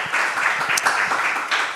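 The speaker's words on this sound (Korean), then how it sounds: "오늘 귀한 강의해 주신 우리 박발 교수님께 한번 큰 감사의 박수 한번 올려주시면 좋겠습니다" An audience breaks into warm applause after a lecture, a continuous close wash of many hands clapping, loud and even, with a few sharper claps, and no talking.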